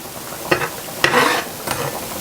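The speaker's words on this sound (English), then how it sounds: "And I'm going to bring this to a simmer." Marsala sauce heats in a pan for chicken marsala, a gentle sizzle with three spoon scrapes or stirs spaced about half a second apart, fairly close.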